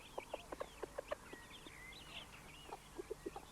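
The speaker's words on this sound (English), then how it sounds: "David Osbiston attends to his chicken house." Chickens clucking in a wooden chicken house on a central pole, a steady run of soft close clucks with higher chirps and squeaks above them, no voices.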